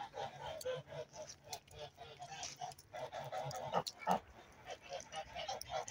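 Farm ducks and other poultry including a drake, rooster and hen, outdoors in mild wet December weather; repeated short quacking and honking calls come in bursts over a muddy, steady background.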